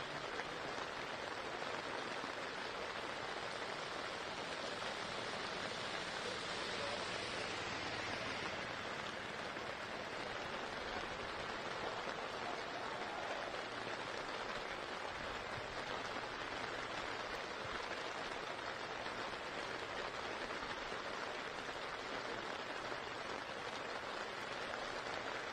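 Rain pours steadily and evenly over a cross-country race course, a continuous dense hiss with no breaks and no voices.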